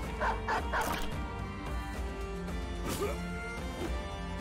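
Dogs in the video game Battle Brothers bark and yip in short bursts over a dense, loud game soundscape of music and effects.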